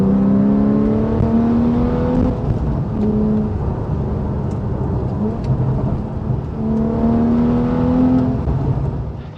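A Porsche 911 991.1 Carrera 2S with a seven-speed manual and an Akrapovic titanium slip-on exhaust pulls hard, its loud engine note climbing in pitch through gears, easing off for a moment, then rising again in a second strong pull.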